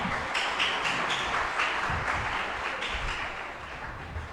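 A church congregation claps together in sustained, dense applause that holds steady and at moderate volume, with no voices heard over it.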